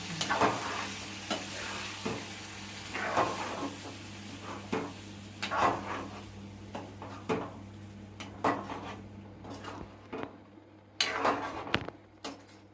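A spoon stirs fish curry in a pot with soft scraping strokes and occasional clinks against the metal. A low simmering sizzle and a steady hum sit underneath, close and fairly quiet, with no voices.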